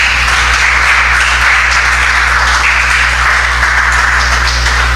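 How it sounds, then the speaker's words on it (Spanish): A church congregation applauds during a Spanish-language sermon, giving a steady, loud wash of clapping that carries on without a break for about five seconds. "Dale un fuerte aplauso al Señor."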